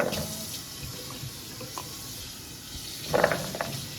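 Water runs into a pot for tteokbokki in a home kitchen, a soft steady trickle with a brief louder splash near the end, close and alone.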